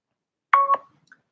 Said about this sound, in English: Hold on, I'm getting a phone call.